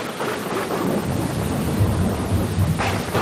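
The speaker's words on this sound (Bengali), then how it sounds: "জোরে ও প্রবল বৃষ্টি আসে, যা পৃথিবীতে এর আগে কখনো দেখা যায়নি।" A thunderstorm with heavy rain: deep thunder rumbles on and off over a steady, dense hiss of downpour, loud and close throughout with no voices.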